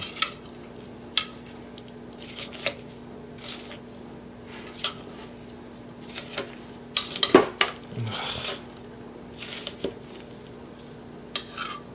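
Hummus with jalapeno and red and green peppers being stirred by hand in a blender jar: scattered, fairly faint scraping and clinks of a utensil against the jar, with short louder knocks spaced irregularly over a quiet background.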